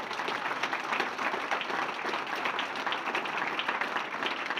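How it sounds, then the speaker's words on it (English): A banquet audience applauds a former Murray State football player at a Hall of Fame induction ceremony, producing dense, even, sustained clapping from a large crowd that holds at a steady level with no talk over it. "keep the applause going"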